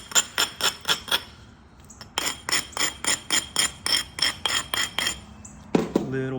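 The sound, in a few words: flint knapping Georgia jasper blade, thinning the piece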